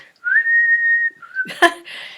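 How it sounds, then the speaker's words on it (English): A person whistles a short tune: one long held note, a brief dip, then a couple of quick notes tangled with a short breathy vocal sound at the end. "when I go out to get my mail from the box that hangs on the gate, I find myself whistling."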